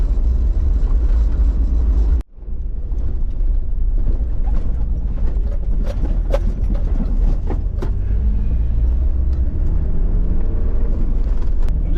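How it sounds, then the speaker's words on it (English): A vehicle rumbles along as it rolls onto the gravel of the Barry Way near the Snowy River, with a loud, continuous low drone, a brief dropout, then rattling and crunching over the rough surface. "just about to hit the gravel on the Barry Way"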